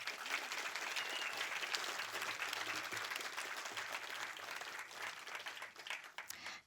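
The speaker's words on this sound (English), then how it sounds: "Let's give all of these individuals and partners a round of applause." A crowd at a tribute evening claps steadily, a dense, even wash of applause that holds for several seconds before thinning out at the end.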